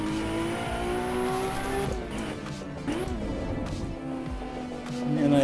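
A turbocharged race car engine in Assetto Corsa EVO winds up hard out of corners, revving loudly with tire squeal and a rising, sustained drone throughout.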